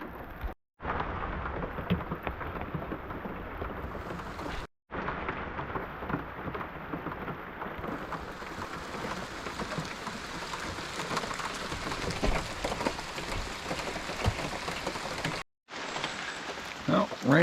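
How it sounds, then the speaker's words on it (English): Steady rain falls outside a camping truck, a dense continuous patter with dull thunder-like rumbles underneath, broken by a few brief silent gaps, with faint voice sounds mixed in. "rain has not let up"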